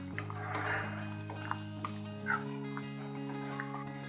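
A spoon scrapes and clinks in a pan while brinjal masala curry with cream is mixed, light irregular taps and scrapes over a steady tonal hum, with a dog barking faintly in the background.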